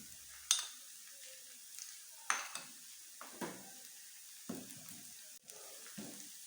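Garlic and ginger paste sizzles in hot oil in a pan, a soft frying crackle with scattered clinks and stirring scrapes of a utensil against the pot, no voices.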